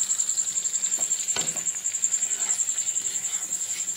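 Dahi posto potol, pointed gourd in yogurt and poppy-seed paste, is stirred while it fries, giving a low sizzle and a few scraping strokes under a constant pulsing insect chirp.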